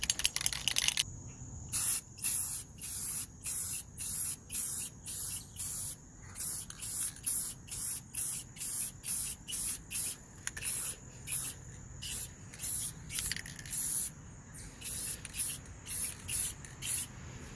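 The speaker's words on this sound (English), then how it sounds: "Got some spray on lens tint for the turn signals." A spray can of lens tint mists onto a kei truck's turn signal lenses in a garage: a rapid series of short, close, hissing bursts, about two dozen sprays separated by brief pauses.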